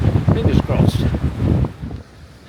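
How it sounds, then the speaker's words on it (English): Cold mountain wind buffets the microphone on an exposed rocky climb in the Cathedral Mountains, a loud rumbling roar in uneven gusts that dies away into quieter air at the end. "It's cold and windy"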